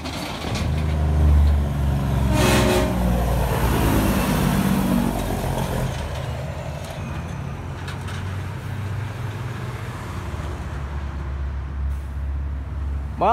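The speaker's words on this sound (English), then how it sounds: "I think the new straight pipes sound good" A truck fitted with new straight-pipe exhaust rumbles loudly nearby, its deep steady engine drone swelling early on, then settling into a continuous idle-like roar.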